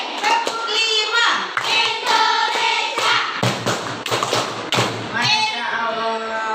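Children in a classroom lesson clap together in counted bursts, sharp hand claps and thumps cutting through loud, sing-song young voices that keep chanting and talking over the claps.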